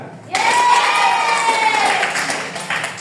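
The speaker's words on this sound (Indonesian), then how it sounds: "Tepuk tangan." A classroom of children applauds during a primary-school micro-teaching lesson, a sudden wash of steady, even clapping that stays loud for a few seconds with a faint voice over it.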